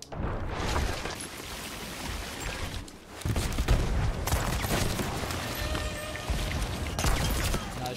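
Ship cannons in a naval battle video game boom in repeated heavy volleys, dense and loud, with a brief lull before the barrage resumes and rumbles on.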